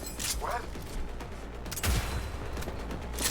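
Rapid bursts of heavy .50 caliber gunfire in the game Cyberpunk 2077, fairly quiet and muffled under a steady game soundscape, with repeated shots in a short fusillade.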